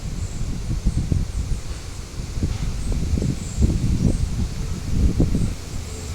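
Wind blowing outdoors, a steady gusting rumble with soft rustling swells that rise and fall close to the microphone throughout, with no voices.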